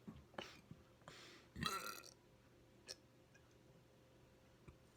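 A few burps from a person doing deliberate burps, the loudest one brief and rough near the middle, with smaller throaty bursts before it and faint ticking clicks in a quiet room.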